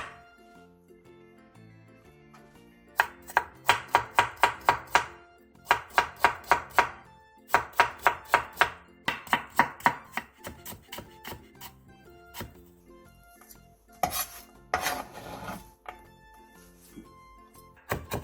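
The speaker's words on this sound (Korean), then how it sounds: "감자 3개를 얇게 채 썰어주세요." A knife slices three potatoes into thin julienne strips on a cutting board, with quick, evenly spaced chops in runs separated by short pauses, close up over soft background music.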